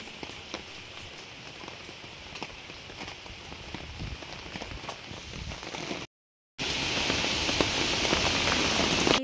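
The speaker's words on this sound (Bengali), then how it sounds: "বৃষ্টি হচ্ছে" Rain from Cyclone Remal patters onto a surface with scattered distinct drops, then after a brief cut it returns as a louder, denser downpour.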